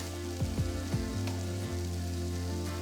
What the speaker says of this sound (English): So you want a nice hot pan, butter side down, straight into the pan.